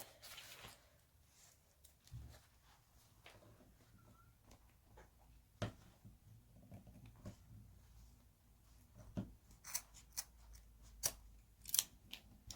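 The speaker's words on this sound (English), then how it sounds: "with your non-fabric scissors, let's just cut off that extra bit of zip." Non-fabric scissors snip off excess zip while finishing a sewing beauty pouch, a few faint scattered cuts and clicks, quiet and close, growing sharper toward the end with no talking.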